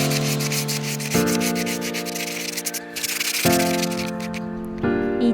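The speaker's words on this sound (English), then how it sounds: "I will be sanding this chair" An old wooden chair is sanded by hand in long rasping strokes, close and steady. The abrasive scratch keeps going with a few short breaks and shifts in pitch between passes, and no one talks.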